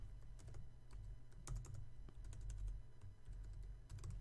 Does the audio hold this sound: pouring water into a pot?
no